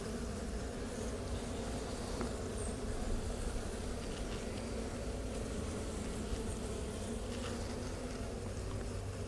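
Honey bees swarm around an open hive during an inspection of the honey super and brood box frames, making a dense, steady buzz that stays close and loud throughout with no pauses.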